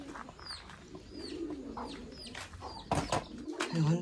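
Pigeons coo in a loft, soft rolling coos close by mixed with high chirps, and some handling noise and a brief thud near the end.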